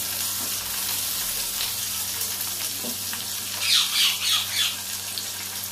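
Potato koftas fry in a pan with a steady, close hiss of oil and a few brief sputters and bubbling bursts near the end.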